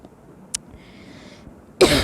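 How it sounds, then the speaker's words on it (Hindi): A single short cough bursts out close by at the end, after a faint click and quiet room noise. "खांसी ख़त्म नहीं होने का नाम नहीं"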